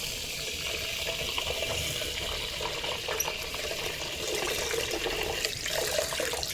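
Kalijira aromatic rice being rinsed under a running tap, a steady splashing rush of water into a sink that continues evenly throughout, fairly close and with no talk over it.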